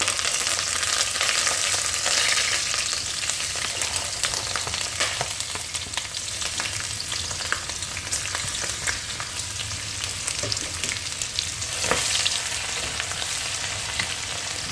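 Ginger, garlic, green chilli and curry leaves sautéing in hot oil for a party-style chicken roast, a steady close sizzle and crackle running throughout with occasional stirring scrapes and a brief louder burst near the end.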